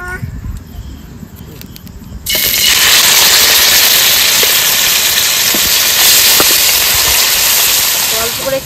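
Meat dropped into hot white oil in a wok for mixed fried rice bursts into a loud, steady sizzle after a quieter opening, hissing continuously to the end with faint clinks.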